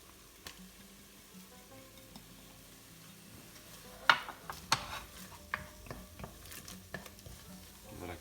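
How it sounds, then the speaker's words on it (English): A curry base of lamb and prawn curry paste with oil and spices frying in a pan, a quiet sizzle broken by a series of sharp spoon clicks and scrapes as it is stirred, close by, no talking. "I'm now going to add a couple of tablespoons of oil and then in with our spice."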